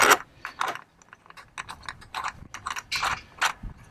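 Ratcheting mechanical clicks and metallic turning from a Molly bolt installation tool being screwed down while mounting a Torqeedo Ultralight motor on a Thresher 155 kayak, several irregular bursts up close and fairly loud.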